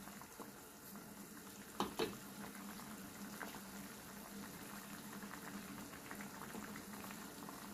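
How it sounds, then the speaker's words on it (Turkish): Quince jam with pomegranate juice bubbling on high heat, a soft steady simmering hiss with a couple of brief knocks near the start. "Yüksek ısıda kaynamaya devam etsinler"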